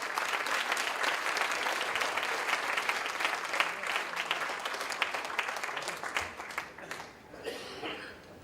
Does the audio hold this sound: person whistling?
no